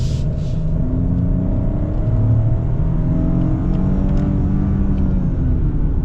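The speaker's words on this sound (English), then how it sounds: "we got to get our turbo noises and our acceleration" The turbocharged engine of a 2022 Ford Bronco Sport Sasquatch accelerates, giving a loud, continuous engine rumble and whir with tones that climb and settle as it gains speed, heard from inside the vehicle.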